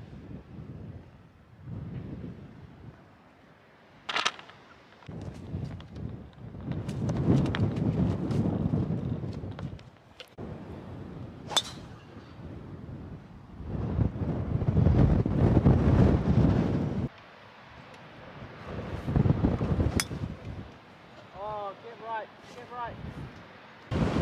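Strong gusting wind buffets the microphone on a golf course riding in a buggy, loud rumbling bursts rising and falling over about twenty seconds, with people talking faintly at times.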